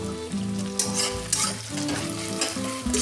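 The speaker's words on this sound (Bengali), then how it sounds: "পেঁয়াজটা আমি একটু গ্যাসটা বাড়িয়ে ভাজবো, কিন্তু যেন পুড়ে না যায়" Onions frying in oil over a high gas flame, a dense, continuous sizzle close up, with stirring scrapes and a droning tonal hum running underneath.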